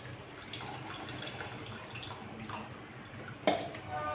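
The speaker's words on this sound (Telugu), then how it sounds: "ఇంకొంచెం వాటర్" Water poured into a pot of fish curry (chepala pulusu), a steady close splashing pour running throughout with a brief louder splash near the end.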